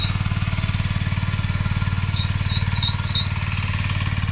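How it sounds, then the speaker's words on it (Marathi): A tractor engine chugs with a fast, steady low pulse while working in a village field, close and continuous, with faint birdsong chirping above it. "इकडे ट्रॅक्टर लावला आहे उखलन काढण्यासाठी"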